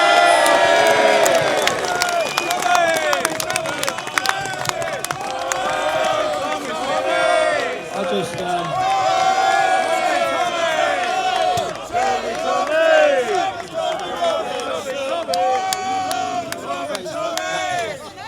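A large outdoor protest crowd cheers and whistles continuously as Tommy Robinson is welcomed in Braintree, with loud shouts, whoops and overlapping voices throughout.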